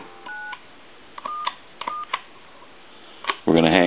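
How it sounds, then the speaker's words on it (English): Touch-tone dialing of 911 on an AT&T Trimline 210 telephone: several short paired beeps in uneven groups over a quiet line, ending in a louder burst of tone. "Now we're going to go ahead and dial 911."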